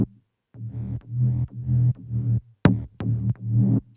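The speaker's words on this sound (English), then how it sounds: "The second oscillator is a kind of a triangle wavetable and it has 5 voices" A detuned five-voice triangle wavetable oscillator in the Serum synth plays a bass riff of repeated sustained notes with short gaps and a few sharp clicks, loud and alone.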